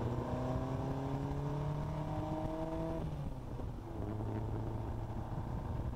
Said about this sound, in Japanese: 合法的にアクセル踏んでいける加速区間、ここでしっかりとアクセル踏んでテストしてみたいと思います